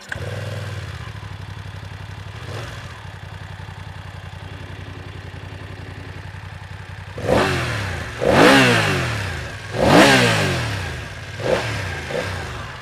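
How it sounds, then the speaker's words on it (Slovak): A 2020 BMW F 900 XR twin-cylinder sport touring motorcycle settles into a steady close idle after starting, then gets four sharp throttle blips that rise and fall back to idle. "Tak nový dvojválec si môžeme aj naštartovať."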